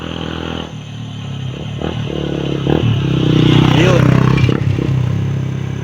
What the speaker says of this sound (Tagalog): Tingnan natin nakamotor oh.